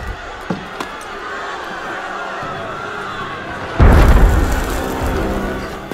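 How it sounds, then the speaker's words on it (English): Cannon fire in the video game Assassin's Creed Unity: a single deep, heavy boom bursts in midway over a restless crowd ambience and rumbles on as the crowd noise swells. "That was cannon fire."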